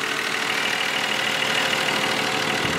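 A 2019 Mercedes E53 AMG with a 3-liter inline six-cylinder engine runs at a steady, smooth idle, a constant close hum with no voices.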